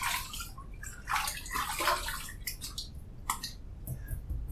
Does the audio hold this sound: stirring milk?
no